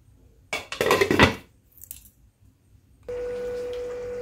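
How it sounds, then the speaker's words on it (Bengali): A metal lid is set over a cooking pot of mixed dal tadka, giving a short burst of clattering metal clinks, then a brief faint clink, followed by a steady hum from the kitchen. "এবার আমি একটু ঢাকা দিয়ে দিচ্ছি।"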